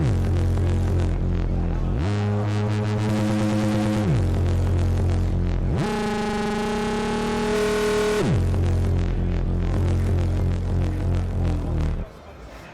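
A droning Arturia PolyBrute 12 synthesizer tone, using FM between two oscillators, throbs and wobbles as its pitch sweeps between levels, then turns gritty and distorted before dropping away near the end.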